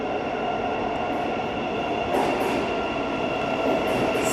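A Thameslink train, the 04:02 Gatwick service to Brighton, rolls into the station with a steady rumbling hum and rising wheel noise, heard loud and close with no talking.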